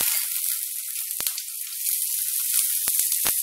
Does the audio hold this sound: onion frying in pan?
yes